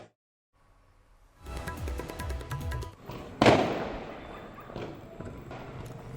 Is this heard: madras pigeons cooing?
no